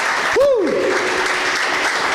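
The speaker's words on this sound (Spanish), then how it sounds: "Dele palmas a Jesús." Congregation clapping for Jesus during a church sermon on tithing in Chiclayo, Peru, a steady wash of applause running throughout, with a voice calling out over it near the start.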